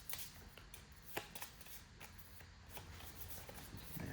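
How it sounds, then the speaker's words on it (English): A deck of game cards is shuffled at close range in a tabletop board game, giving a quick series of soft riffling flutters and light snaps, faint and unaccompanied by talk. "Let's shuffle this deck here."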